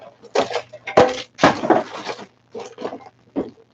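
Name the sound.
3D printer hot ends dropped on the floor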